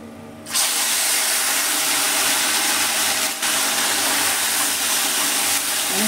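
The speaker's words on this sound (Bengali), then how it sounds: "এবার আমি চুনো মাছগুলো তেলে ছেড়ে দেবো" Small fish dropped into very hot mustard oil erupt into a loud, steady, close sizzle that holds at full strength after a brief quieter start.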